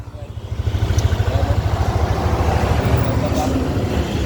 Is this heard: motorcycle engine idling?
yes